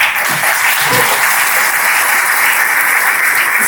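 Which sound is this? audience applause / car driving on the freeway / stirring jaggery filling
audience applause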